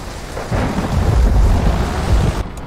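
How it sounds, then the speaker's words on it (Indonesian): Rolling thunder in Euro Truck Simulator 2 swells up after a brief quiet start, a deep, loud rumble mixed with steady rain that holds for a couple of seconds before cutting off. "Waduh, geledeknya, geledek, geledek."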